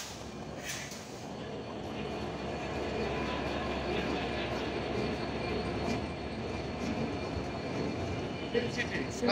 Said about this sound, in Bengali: সৈয়দাবাদ স্টেশনের 2 নম্বর প্ল্যাটফর্ম দিয়ে থ্রু পাস হয়ে সিল সিটি এক্সপ্রেস চলে যাবে ঢাকার দিকে।